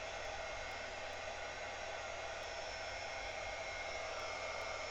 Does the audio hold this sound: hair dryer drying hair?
yes